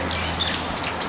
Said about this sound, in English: Calvin, what is the bird saying?